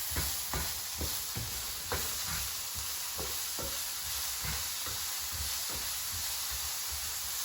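Seasoned zucchini sautéing in a frying pan on a stove, a constant soft sizzle and hiss broken by a series of scraping stirs at an irregular pace, quiet and with no talk.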